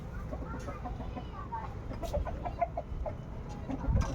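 Chickens cluck in short bursts close by, with soft background noise and a few louder clucks toward the end.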